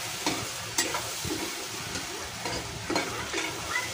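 Prawns fry in a pan over low heat, a soft continuous sizzle broken by occasional light clinks and scrapes of a utensil moving them about.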